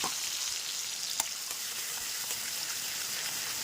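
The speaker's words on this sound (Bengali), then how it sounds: "বেশ কিছুক্ষণ ভাজা ভাজা করবো এটাকে" Continuous crackling sizzle of ginger, cumin and green chilli paste frying in oil, close and even, with a few faint stirring taps.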